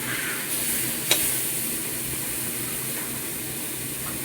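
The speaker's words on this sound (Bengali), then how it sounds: "এখন আমি মশলা দিয়ে দিচ্ছি।" Spices and ginger-garlic paste sizzling in a hot frying pan, a steady hissing fry with one sharp clink of a utensil early on, close and alone without talk.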